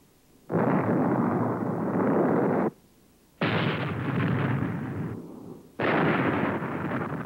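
Archival film of napalm explosions, tanks of napalm dropped by Tactical Air Command aircraft, with three long, loud roaring fireball blasts, each swelling and rumbling for a couple of seconds with short quieter gaps between.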